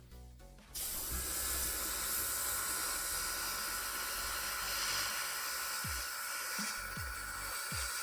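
An airbrush sprays paint onto Warhammer terrain in a loud, steady hiss that cuts in after a short quiet start and runs on without a break, with a few soft knocks near the end.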